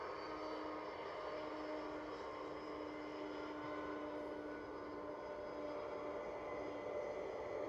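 A Delta jet airliner lining up for departure at Edinburgh Airport, heard from a distance as a steady, faint engine drone with a constant whine that holds evenly throughout.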